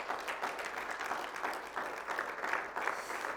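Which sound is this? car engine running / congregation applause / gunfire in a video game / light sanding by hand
congregation applause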